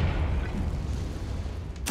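A Confringo spell explosion in the video game Hogwarts Legacy, a loud, low, rumbling blast that rolls on for about two seconds and ends with a sharp burst.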